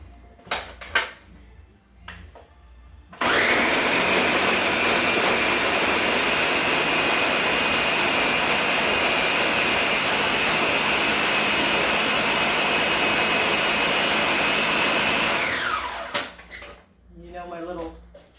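Ice cream maker spinning a batch of dairy-free, sugar-free coffee ice cream: a loud, steady high-pitched whir kicks in abruptly, runs about twelve seconds, then winds down, with brief clatters and handling noise before and after.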